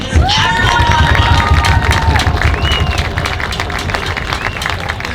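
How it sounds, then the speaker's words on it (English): An outdoor crowd at a marching band festival in Pasadena claps and cheers, with whoops and shouts over a broad rumble of applause that gradually eases. "I want to make sure that they get a round of applause"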